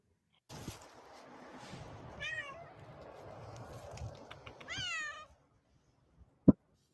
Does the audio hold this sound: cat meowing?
yes